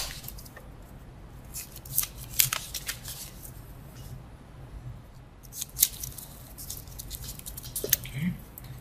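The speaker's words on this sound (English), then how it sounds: "I want to tape these so that they make an electrical connection on my battery." Tape is pulled and pressed onto wire leads against a battery for a homemade electric motor, giving scattered soft crackles and sticky rips at close range.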